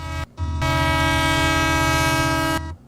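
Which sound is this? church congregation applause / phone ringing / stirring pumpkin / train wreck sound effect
train wreck sound effect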